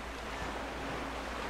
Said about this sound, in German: Vor allem teilt sich jetzt das Wasser hier noch.